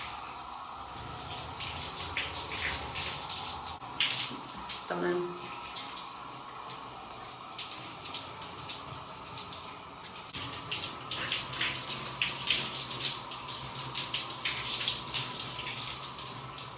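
Water gushes from a tap and splashes steadily while a pan is scrubbed in a sink, a continuous close hiss with clinks and a brief thud, and a voice speaking briefly over it.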